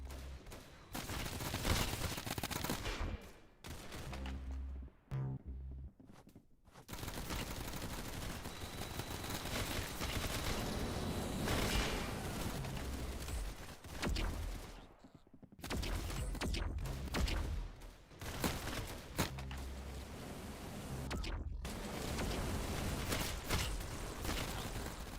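Sustained, loud gunfire from the mining co-op shooter Deep Rock Galactic, with dense overlapping bursts and booming impacts broken by two short lulls, occasional voice under the barrage.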